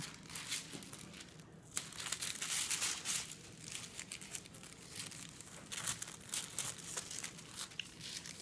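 Sheets of scrap tracing paper are crumpled by hand close up, a dense run of crisp crinkles and crackles that rise and fall for several seconds with no talk.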